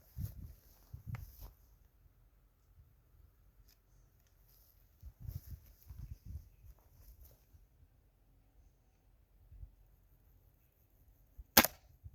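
A few sharp pops from an air gun fired at a target on a shooting range, spaced out over quiet stretches with soft low thumps and handling noise, and one loud crack near the end.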